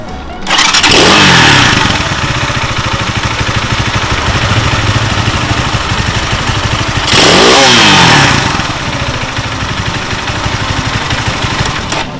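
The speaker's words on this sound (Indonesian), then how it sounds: "satu hal yang agak mengecewakan dari motor ini adalah suara mesinnya." A chopper-style motorcycle engine starts with a loud whirring crank, then settles into a steady, rattly idle like a sewing machine, close and dominant, before a second cranking burst and a return to idle.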